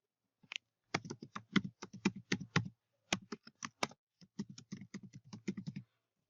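Crisp, close keystrokes on a computer keyboard tap out an email address in quick bursts with short pauses between groups, alone in a quiet room.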